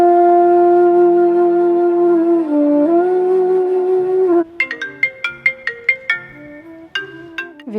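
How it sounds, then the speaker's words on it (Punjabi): A melodic phone ringtone plays loudly, first a sustained tone then a rapid series of bright chiming notes repeating in a steady pattern, with no talking. "ਕਿਹਦਾ ਫੋਨ"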